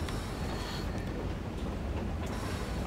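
A locomotive in Metro Exodus rumbles with a steady, heavy low drone and a faint rattling wash, continuous and fairly distant throughout, with no talking.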